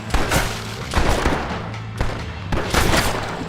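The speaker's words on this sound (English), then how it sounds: "They're shooting you." Rapid gunfire in a Red Dead Redemption video-game gunfight: loud, sharp bursts of shots arrive in clusters about every second, with a steady low game-music drone underneath and no talk.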